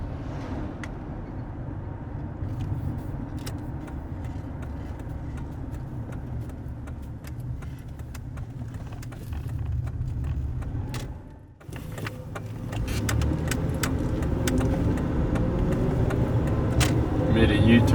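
A 2002 Ford Ranger XLT SuperCab pickup truck driving, a low steady engine and road hum from inside the cab that dips briefly, then rises and grows louder as it pulls away.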